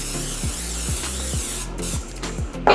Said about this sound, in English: I'm gonna spray my counter so that the dough does not stick